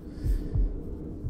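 Heartbeat effect in the survival video game Bermuda: Lost Survival, a few low, soft thumping pulses in a quiet, muffled underwater-like hum.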